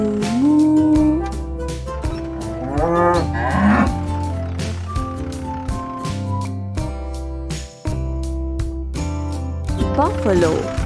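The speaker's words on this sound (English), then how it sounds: "Cow, moo moo." A cow moos in a children's animal-sounds song, the lowing mixed under bright music with a sung voice and sparkly effects throughout.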